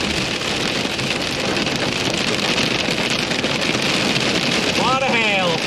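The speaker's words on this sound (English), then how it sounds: "A lot of hail." Hail drums densely and steadily on a car while storm chasing, a loud continuous rattle that never lets up. Near the end a short rising tone sounds over the clatter.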